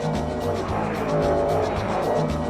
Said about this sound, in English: the Mercedes duo thundered on at the head of the field